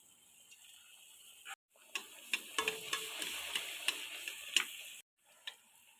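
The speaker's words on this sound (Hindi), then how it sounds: "ये पूड़ी तल लेते हैं" Puris fry in hot oil, giving a faint hiss with scattered sharp crackles and pops, broken by a couple of brief silent gaps.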